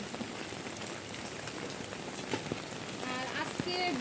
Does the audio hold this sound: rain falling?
yes